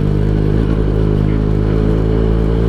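A Benelli TNT 249 S motorcycle engine runs during a test ride, a loud, steady, close throbbing drone with a strong low rumble and a rough mechanical edge, alone without any voices.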